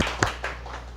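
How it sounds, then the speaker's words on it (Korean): A church congregation claps briefly in a few scattered, distant hand claps that fade quickly after a sermon, with no voices heard. "우리 하나님께 영광의 박수를 올려주십시다"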